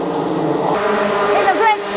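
A racing kart engine howls past on a Super One series circuit, a steady buzzing roar that climbs into a brief rising whine near the end, with a commentator talking over it.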